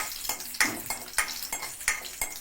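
Cashews and a single dried red chili frying in hot ghee for sambar rice, sizzling steadily while a spoon stirs the pan in sharp, regular scraping strokes about every third of a second.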